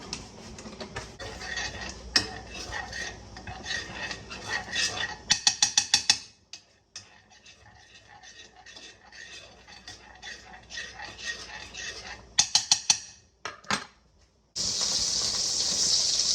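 Salmon fillets laid into a piping hot pan with butter and a little olive oil, bursts of sizzling and crackling along with clinks of utensils and pan, loud and close, with quieter stretches between.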